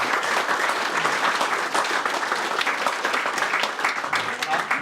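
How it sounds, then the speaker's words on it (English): A crowd applauds at the launch of the book A Whirr of Many Wheels, giving a continuous, loud round of clapping up close, with a few voices faintly mixed into the ovation. "let's have a round of applause for Ron."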